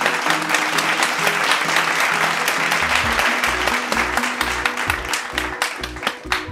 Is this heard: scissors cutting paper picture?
no